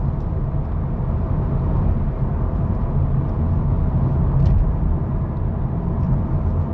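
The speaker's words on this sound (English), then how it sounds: "the tyre noise is quite audible now" Steady low road and tyre roar from inside a moving 2020 SEAT Leon FR, a constant broadband rumble with no talking.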